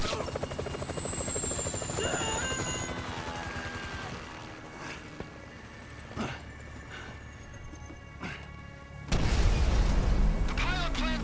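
A helicopter in Grand Theft Auto V thrums with a continuous rotor drone throughout, with occasional sharp impacts, then a sudden louder burst near the end; voices talk over it at times.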